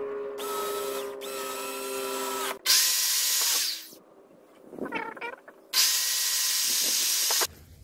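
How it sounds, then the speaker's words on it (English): A cordless power drill drives screws into a wooden frame for a mini window AC mount, sounding in several loud whirring bursts with quiet pauses between them and a short bit of rattling handling in the middle. "And we'll screw it in."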